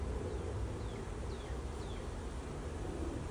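A steady honeybee swarm drone fills the background, a dense buzz with faint high chirps drifting over it, continuous and fairly distant, as bees move into a top bar hive.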